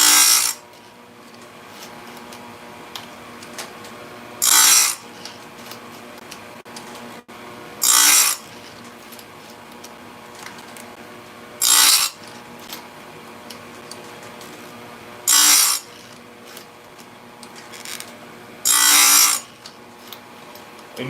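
A Stihl USG grinder sharpening a chainsaw chain: five short, bright bursts of grinding recur every few seconds over a low motor hum, each pass brief and evenly spaced.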